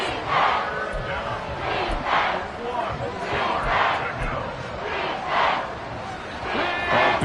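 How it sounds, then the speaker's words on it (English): A large football stadium crowd roars and swells in loud, continuous waves of cheering with rhythmic surges, heard up close and filling the space. "A big play here as the crowd noise rises."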